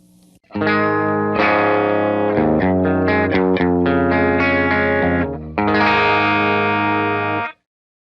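A distorted electric guitar through a Vox AC15 tube amp plays a short phrase of sustained chords and notes with a thick, driven tone, ringing out before cutting off.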